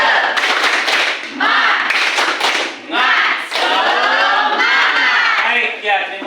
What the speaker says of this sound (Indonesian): Mari kita tepuk tangan, tepuk semangat dulu ya